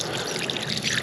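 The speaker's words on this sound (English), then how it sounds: "I wonder if I start pouring here" Water pours steadily onto a carved stone with small notches at its top, making a continuous close trickling and splashing.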